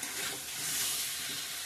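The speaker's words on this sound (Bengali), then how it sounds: "ভালো করে ভেজে নিচ্ছি মশলার সঙ্গে আলুটা।" Potatoes fry with spices in a hot pan, giving a steady, close, broad sizzling hiss that swells slightly and holds evenly throughout, with no talking.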